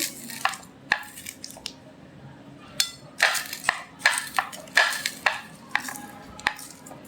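Boiled sweet pumpkin mashed together with garlic, onion, coriander leaves and dried chili, irregular soft thuds and squishy presses sounding close and alone.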